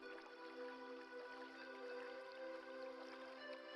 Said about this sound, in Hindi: इन पानी की कल कल की आवाजों को सुनते जाएं।